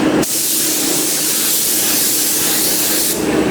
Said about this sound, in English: then spray 2 final color coats